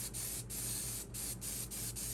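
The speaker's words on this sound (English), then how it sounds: "we're gonna go ahead and mist this down with some hairspray" Hairspray misted from an aerosol can onto dried sedum trees for a slot car layout, in several short steady hissing bursts separated by brief gaps, close and alone.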